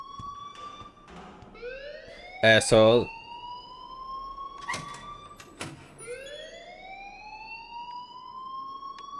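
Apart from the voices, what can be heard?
alarm ringing in the video game Life is Strange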